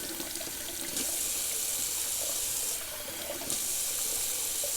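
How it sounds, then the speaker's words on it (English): A bathroom tap runs cold water into a sink for a rinse during a wet shave, a steady close hiss that briefly shifts and dips as the flow is interrupted. "let me just do a quick little cold water rinse"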